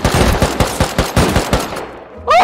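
Rapid bursts of gunfire in the video game Rust, about a dozen sharp shots in a fast rhythm, loud and close, ending with a short electronic blip.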